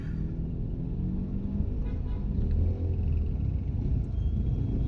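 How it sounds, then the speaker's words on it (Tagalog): Steady road traffic rumbles on a city street at night, with cars passing in a continuous low drone and no breaks. "Traffic pala."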